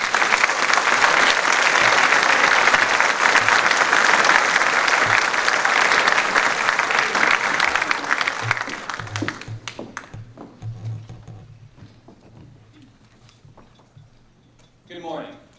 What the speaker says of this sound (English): Let's give our veterans a round of applause.